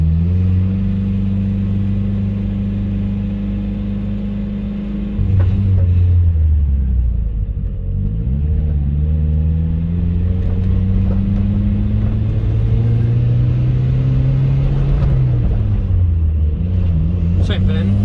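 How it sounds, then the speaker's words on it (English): A car with an aggressive clutch creeping along slowly, its engine droning low with pitch dipping and rising as it lugs and picks up, while someone talks over it. "it is very difficult to drive my car this slowly because of how aggressive the clutch is"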